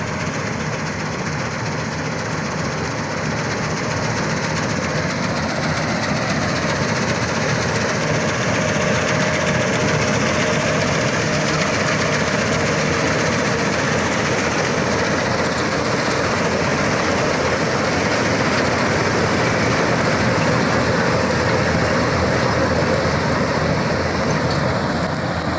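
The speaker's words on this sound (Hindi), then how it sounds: "ये ऐसे ही गेहूं की बालियों से गेहूं को अलग करती जाएगी" A combine harvester separates wheat grain from the ears in a field, its engine and threshing mechanism droning loudly and continuously at close range with a steady, unbroken roar and no voices.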